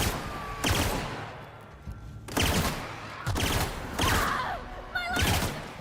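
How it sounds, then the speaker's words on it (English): A grenade launcher fires in the video game The Outer Worlds, with several loud, punchy blasts spaced a second or so apart, each followed by a brief rumbling tail, plus scattered gunfire-like effects. "Pretty decent grenade launcher you got there"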